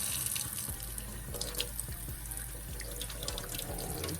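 Water runs steadily from a newly installed kitchen faucet into the sink while filling to water a potted Hoya in terracotta, a continuous close splashing rush with faint clinks throughout.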